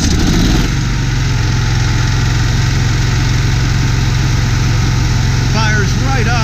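The onboard generator of a 1998 Ford E450 30-foot Gulf Stream Ultra motorhome fires up and then runs at a loud, steady idle drone close by, with a voice heard briefly near the end.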